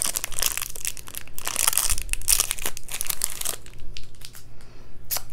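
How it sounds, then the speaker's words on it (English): Plastic packaging crinkles and crunches loudly and close by as a makeup brush is pulled free, a run of irregular crumpling bursts that thin out near the end, with no voices. "Get it out of the plastic."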